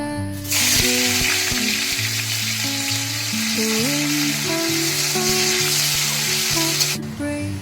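Bitter gourd pieces sizzle in white oil in a wok, a loud steady frying hiss carrying on for several seconds with soft music playing underneath.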